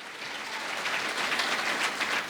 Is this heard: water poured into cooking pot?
no